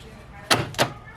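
Aftermarket power door lock actuator locking a car door with the door panel off, two quick mechanical clunks a quarter second apart, close and fairly loud over quiet background.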